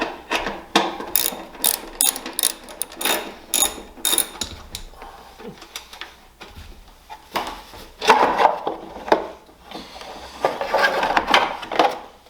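Close ratcheting and clicking come in irregular bursts as the cover is worked off a NOMA snowthrower, with short pauses between bursts of mechanical rattling.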